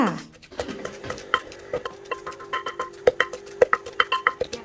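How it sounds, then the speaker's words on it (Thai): Thai chili paste with shrimp paste pounded in a mortar, giving a series of sharp knocking thuds that build into a quicker steady rhythm, close and clear with no talk. "จากนั้นก็ตำต่อค่ะ"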